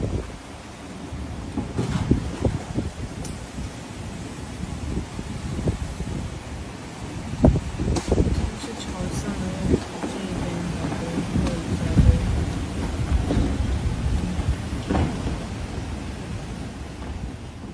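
Typhoon Yagi winds and rain batter a building, a steady roaring wash of wind and rainfall with gusting surges and scattered thumps and rattles of debris throughout.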